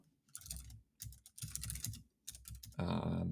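Close typing on a computer keyboard right in front of a microphone, with bursts of clicking keystrokes separated by short pauses, then a denser flurry of keys near the end.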